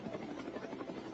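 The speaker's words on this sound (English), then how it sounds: "they released a video of a helicopter landing on a ship" Helicopter landing on a ship, heard from a played video: a faint, muffled rotor drone with a soft rhythmic pulsing, steady throughout.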